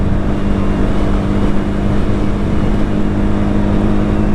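A Levhart LV200 GY-3 motorcycle pulls hard in fourth gear, its engine a loud, continuous droning whine with no break across the few seconds.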